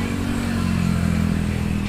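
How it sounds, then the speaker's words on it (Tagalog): Highway traffic with trucks and a motorcycle passing beside a roadside house, a loud, steady engine roar with no distinct rise or fall, and no speech. "Ayan, madaming truck dinapit ha. Daming truck. Ayan, may motor pa."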